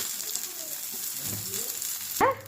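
Goat brain omelette frying in a pan, a steady close sizzle running throughout with a brief clatter near the end as it is turned over.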